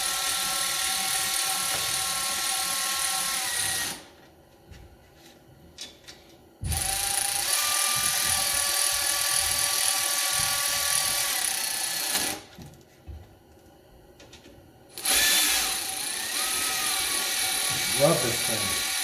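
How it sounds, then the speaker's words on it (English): Milwaukee cordless power tool whining in loud sustained bursts with short quiet pauses between, close by in a workshop while fitting an oil pickup tube on a 4.6/5.0L stroker engine; a person talks during the gaps. "Nice Milwaukee cordless."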